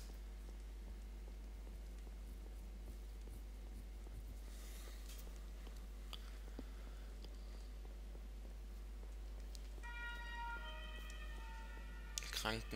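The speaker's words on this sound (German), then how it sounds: "Krankenwagen, na super." A faint ambulance siren drifts in from outside during a video game session, its wavering tones rising briefly near the end over a steady background hum and game sounds.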